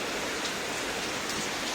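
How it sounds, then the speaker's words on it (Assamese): Rain falls steadily outdoors, an even, close hiss of drops with no voices or other sounds. "আকৌ আহি গ'ল গাইছ বৰষুণ"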